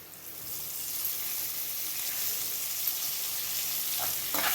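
A tempering for lemon rice sizzles in a pan as fresh coriander goes in, a steady close frying hiss that holds evenly and ends with a couple of light clinks.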